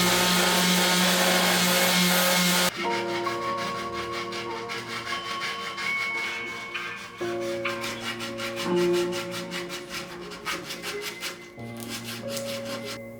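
A wooden workpiece marked by tear-out and burn marks is worked with a power sander, giving a loud, steady whir. The motor drops and shifts in pitch a few times as the pressure changes.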